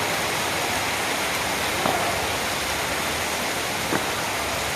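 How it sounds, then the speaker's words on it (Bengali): Heavy rain pours down in a dense, constant roar of drops hitting surfaces, steady and loud throughout, with no voices. "আর ভীষণ বৃষ্টি হচ্ছে"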